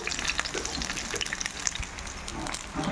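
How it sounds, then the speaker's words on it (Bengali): Pieces of pointed gourd (potol) fry in hot oil, giving a steady, dense close sizzle with small crackling pops throughout and no talk. "তেল গরম হয়ে গেছে, আস্তে আস্তে পটলগুলো তেলের মধ্যে ছেড়ে দেওয়া হয়ে গেছে।"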